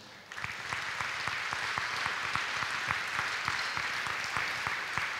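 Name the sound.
applause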